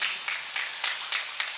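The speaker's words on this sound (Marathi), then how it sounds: "यांच्यासाठी जोरदार टाळ्या वाजवा" A kirtan audience claps together in a burst of applause, a dense, even patter of many hands with a few louder swells, heard at moderate distance.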